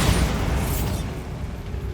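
A Bombarda blasting spell cast in the wizarding game Hogwarts Legacy, heard as a loud, broad explosive boom that rumbles on and fades over about two seconds, with no voices.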